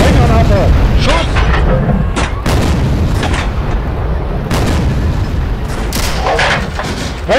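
Heavy tank gun blasts with high-explosive rounds ring out in the WWII tank game Steel Fury, several sharp booms spaced over a steady loud engine roar, with shouted crew commands mixed in.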